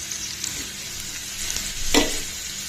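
Colocasia pieces fry in a pan with turmeric and salt, giving a steady close sizzle with a scrape of stirring near the end.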